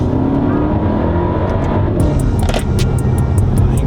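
An Audi A5 Sportback TFSI quattro with a software-tuned four-cylinder accelerates hard in second gear after an instant downshift from fourth, its loud, steady engine roar filling the cabin with a few sharp clicks near the end.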